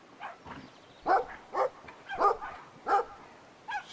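Dogs bark in the video game Brothers: A Tale of Two Sons, with around seven sharp, mid-distance barks in an uneven series over a quiet background.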